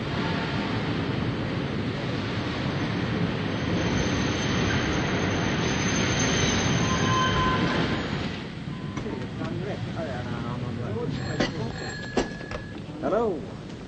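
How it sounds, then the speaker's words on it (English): A train pulling into a station in the 1941 comedy detective film Inspector Hornleigh Goes to It, a long broad rumble and hiss that fades into clanking and a bell, with voices speaking over it. "Train's coming in now."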